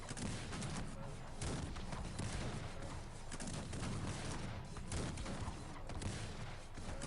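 Dense, continuous volleys of musket-style gunfire from Highlander troops in a strategy video game battle, with overlapping shots, thuds and distant booms rolling on steadily throughout.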